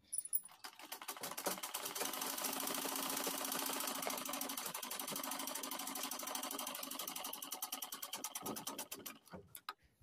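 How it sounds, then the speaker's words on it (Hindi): A sewing machine runs steadily for about nine seconds, test-stitching after the upper and lower thread tension have been balanced to fix faulty underside stitches; a dense, fast mechanical chatter, close and loud, starting and stopping abruptly, with no talking. "उसके बाद फिर सिलाई करके आपको दिखाएंगे कैसा सिलाई हो रहा है"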